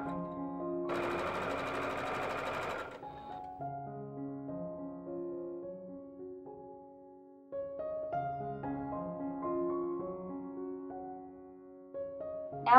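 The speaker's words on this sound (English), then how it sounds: "I sewed a line to connect them at the bottom tip and at the top of the heart." A sewing machine runs in short bursts stitching fabric seams for a heart-shaped pillow, its steady whirring motor rising and pausing between passes, close and clear with no talking.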